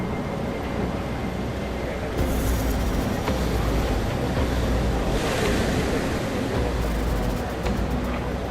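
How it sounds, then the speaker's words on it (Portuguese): Storm waves surging on the Arctic Ocean around a ship, a loud continuous roar of water and wind with rising swells of crashing spray. "Uma tempestade no Oceano Ártico."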